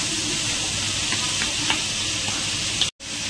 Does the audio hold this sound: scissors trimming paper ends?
no